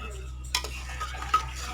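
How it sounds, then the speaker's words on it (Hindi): A spoon gently stirs spicy arbi (taro root) sabji in a pan, giving two soft scraping clinks over a quiet low hum. "बस ज़्यादा आपने चम्मच नहीं इसमें हिलाना, बड़े प्यार से आपने जो है ना मिक्स करना।"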